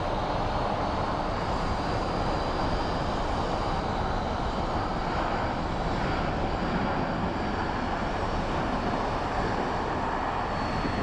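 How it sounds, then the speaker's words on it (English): An ABX Air airplane taxis after landing at Phoenix Sky Harbor International Airport, its steady engine rumble and whine holding evenly at moderate distance throughout, with wind noise outdoors and no talk. "there's the ABX Air that we were filming landing. He is taxiing in."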